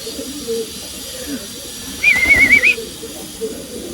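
Faint low pigeon cooing in a caged loft over a hissy background, with a brief warbling chirp rising in the middle.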